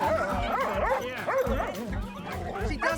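An agitated rescue dog barks repeatedly at close range in a home, sharp bow-wows mixed with yips and whimpering whines in an uneven rhythm.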